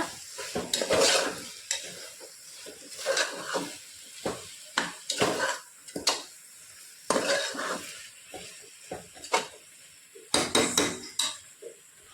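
A spoon scrapes and clatters around a pan in repeated bursts of stirring, with a steady sizzle underneath and no talking.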